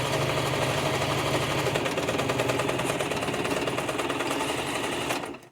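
A sewing machine runs fast and close, back stitching over fabric in a steady rapid mechanical chatter for about five seconds before stopping abruptly.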